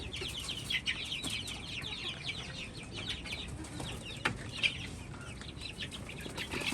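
Chickens and young chicks clucking and cheeping softly nearby, a scattered run of short chirps and clucks over light background noise, with an occasional faint bump.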